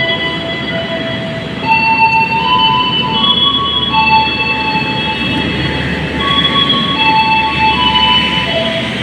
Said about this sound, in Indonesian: Kayak itu lokomotifnya lagi langsir